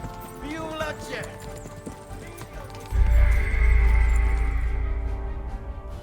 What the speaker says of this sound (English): His horse is like fast as lightning.